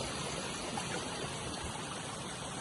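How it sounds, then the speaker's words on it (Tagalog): Water rushes steadily, a continuous low churning flow like a river or stream, with no pauses and no voices. "Yung mga agos ng tubig"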